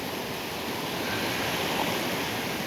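Cold river water flowing in the Pecos Wilderness, a loud steady rushing wash close by with no speech.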